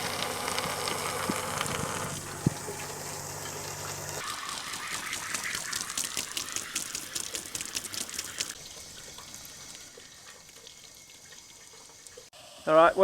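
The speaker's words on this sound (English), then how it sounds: "It's a small little shower." A small shower runs water in a steady hiss that shifts and fades over time, fairly close, with a brief louder burst at the very end.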